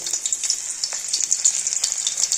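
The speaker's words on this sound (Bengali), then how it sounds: "সবার ফার্স্ট এই যে কুচানো রসুনটা দিয়ে দেবো।" Chopped garlic hits hot oil and crackles with a bright, busy sizzle full of small pops and spits, close and steady for a couple of seconds with no voices.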